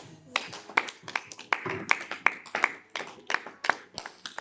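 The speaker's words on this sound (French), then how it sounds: "Applaudissons le Seigneur." A church congregation claps together in a fast, steady rhythm, a dozen or so crisp claps spread over a few seconds, fairly close, with faint voices underneath.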